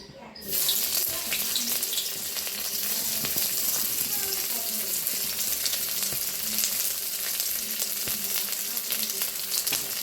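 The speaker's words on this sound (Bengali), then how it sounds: "তেল গরম হয়ে গেছে আগে থেকে পেঁয়াজ কুচি করে রেখেছি পেঁয়াজ কুচিটা দিয়ে দেবো" Chopped onion drops into hot oil in a wok, setting off a sudden loud hiss that settles into a dense, steady sizzle with faint crackles, close by and continuous, with brief soft speech in the background.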